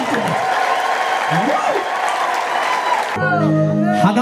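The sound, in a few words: applause and ululation for the Lord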